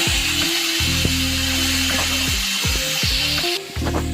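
Vegetables hiss and sizzle in a pan beneath a loud, droning hum that repeatedly dips in pitch.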